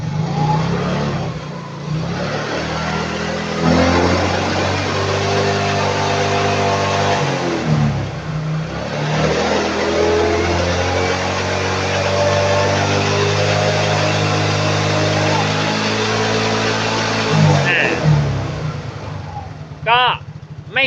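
A Yamaha Mio scooter with an LED headlight and an electrical fault revs its engine loudly and close by, in sustained rising and falling bursts, while someone talks over it.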